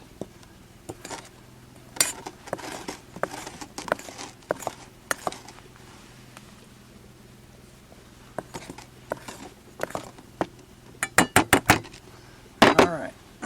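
Cake batter being mixed in a bowl with a utensil, heard as irregular clinks and scrapes against the bowl that come and go, with a denser flurry of taps near the end.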